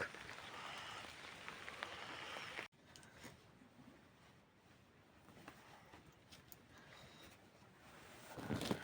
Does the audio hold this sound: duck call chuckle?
no